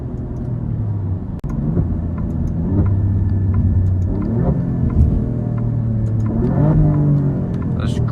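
A 2024 Alfa Romeo Giulia Quadrifoglio pulls hard under full turbo boost, its engine rising in loud, close revving sweeps with gear changes, while a voice talks over it.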